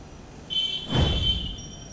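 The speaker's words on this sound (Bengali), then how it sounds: "ওইদিকে রাহুল ট্রেনে উঠে ট্রেনের সিটে বসেছিল" A cartoon train sound effect from a Bengali horror cartoon: a steady high whistle-like tone starts midway while a broad rumbling swell rises and fades, with no talk.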